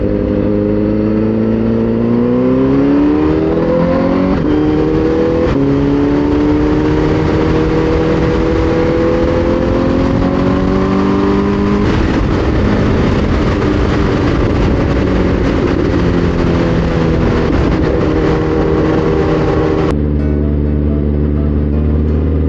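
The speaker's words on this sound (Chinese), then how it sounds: "你转速不能太低啦，都要维持有补油门的状态" A heavy motorcycle held at steady throttle, its loud close engine drone climbing and settling in pitch over a long stretch, with wind rush and no voices, then a sudden drop in the final seconds.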